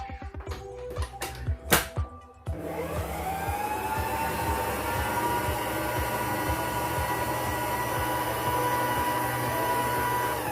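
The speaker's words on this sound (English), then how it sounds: "I'm going to be mixing it for 5 minutes until everything is mixed together proper" An electric mixer beats sponge cake batter with sugar in a kitchen. Clattering starts in the first couple of seconds, then a steady, loud motor whir runs without a break to the end.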